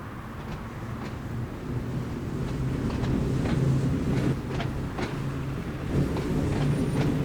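A train in the Train Sim World 2 game pulls away from Ryde Pier on the Isle of Wight at night, a steady low rumble and hum of rolling stock building gently with faint clanks over several seconds.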